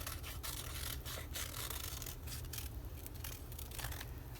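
Scissors cutting paper for a collage book: faint, close snipping and rustling over a steady low background hum, with repeated short cuts throughout.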